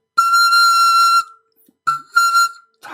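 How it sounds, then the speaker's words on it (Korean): A pan flute plays a high note with a strained, squeezed tone: one long sustained tone, a pause, then two shorter breathy notes, loud and close with no talking. "소리가 이렇게 짜는 듯한 소리가 나기도 해요"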